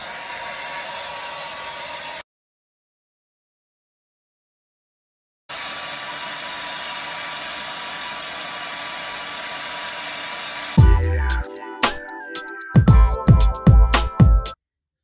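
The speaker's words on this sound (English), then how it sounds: "I'm gonna take my blow dryer and I'm gonna blow dry this first coat until it's completely dry" Blow dryer running steadily, drying the first coat on a wig cap, a constant airy whir that cuts out for a few seconds, returns, then gives way to clattering handling noises.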